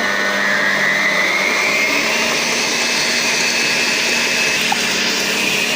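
An electric mixer whisks eggs for a princess cake with a steady high whirring drone that rises slightly in pitch as the speed goes up, loud and close.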